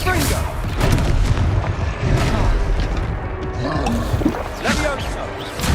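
Confringo spell explosions from the Hogwarts Legacy video game boom repeatedly amid game effects, with a voice shouting and talking over the blasts.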